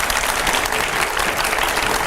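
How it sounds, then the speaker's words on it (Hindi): Loud, dense applause from a studio audience greeting a political guest on a televised debate show, a continuous wash of clapping with no gaps. "जोरदार तालियां रुकनी नहीं चाहिए।"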